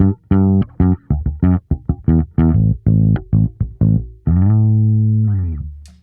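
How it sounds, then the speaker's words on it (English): An old P bass through a UA Ampeg SVT amp emulation plays a loud, clean, punchy riff of short plucked notes, then ends on a long sustained note that fades out. "I've got this pretty standard old P bass with a UA Audio"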